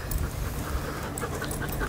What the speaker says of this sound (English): There's a bunch of people and a bunch of dogs and Gohan's loving it